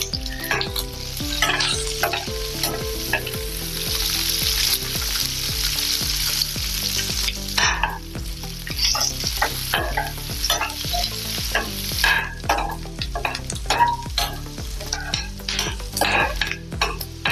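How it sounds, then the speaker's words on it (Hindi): Onions sizzle and crackle steadily in a hot pan with cumin seeds while a utensil stirs and scrapes at intervals, close up, with no talking. "ये देखिए प्याज को अच्छे से हमने भून लिया है।"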